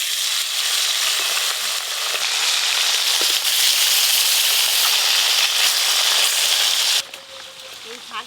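Parshe river fish frying in oil in a village-style kitchen. A loud, continuous crackling sizzle holds close by for about seven seconds, then drops abruptly to a much quieter hiss.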